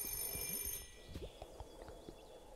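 A phone booth telephone rings in the video game Chicory, a bright electronic ring that is loudest at the start and then softens into a light, scattered tail, with no talk over it.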